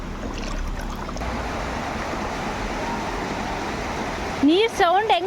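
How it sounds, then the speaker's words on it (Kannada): A roadside waterfall rushes as a steady broadband roar close by, with a voice speaking briefly over it near the end. "ನೀರು ಸೌಂಡ್ ಹೆಂಗೆ ಬರ್ತಾ ಇದೆ ಅಲ್ಲ."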